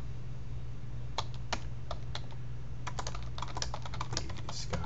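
Someone types on a computer keyboard while entering text, with a run of light, uneven key clicks that begins sparse and grows busier, sitting close over a low steady hum.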